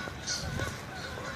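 Geese honking by a river at Riverscape MetroPark in downtown Dayton, a few harsh calls rising over a noisy outdoor background of wind and traffic.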